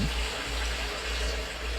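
Steady spray of water from a hose hitting the taillight area of a Honda City, a continuous close splashing wash with no pauses.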